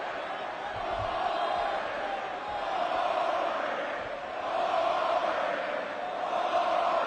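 Large arena crowd at a WrestleMania 20 wrestling match keeps up a restless, rolling roar with swelling murmurs and scattered shouts under a commentator's voice.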